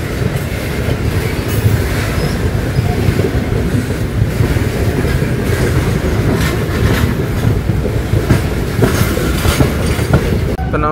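A delayed train rolls into Rajahmundry station, its wheels clattering steadily over the rails with a loud, continuous rumble and occasional metallic squeals, close and constant throughout.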